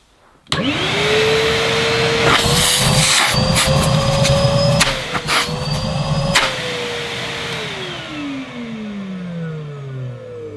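A brand-new Numatic Hetty XL Plus vacuum cleaner switches on with a thump and runs as a loud, steady motor whine with a slight pitch wobble, then starts winding down near the end. Nobody talks.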